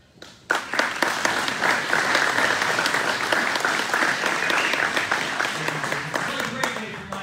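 An audience claps at a groundbreaking ceremony for a new $3.1 million airport terminal in Miami, a sudden swell of dense, sustained applause that carries on steadily and slowly tapers, with some voices mixed in beneath it.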